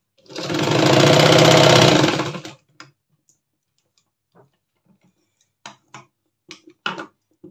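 Sewing machine stitching the second part of a garment, one loud continuous run of about two seconds, then quiet with scattered small clicks and taps of handling.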